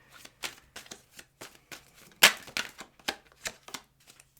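Tarot cards being shuffled in the hands, a rapid run of crisp riffling flutters and soft slaps in an uneven rhythm, with one louder snap of cards near the middle, close and fairly quiet with no talk.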